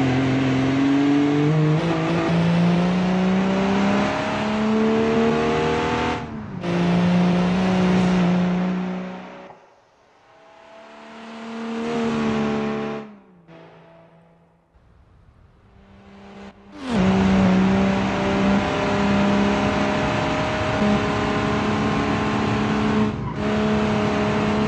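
A 1947-style car in the BeamNG driving game runs with a loud engine, revving and shifting through gears, then drops off to near silence as it brakes hard before accelerating back up again.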